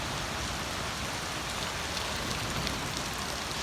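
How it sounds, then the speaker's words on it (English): A rainstorm turning to hail pours down in the wilderness during a tropical storm, making a dense, steady, even hiss of falling water and impacts throughout. "this rainstorm that turned into hail,"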